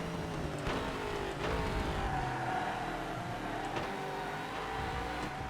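GT race cars in the ToCA Race Driver 3 racing game during a British GT Cup race at the Mondello circuit, with a Vauxhall among them. Engines drone steadily with several sharp shifts and revs, close and continuous, with no voices.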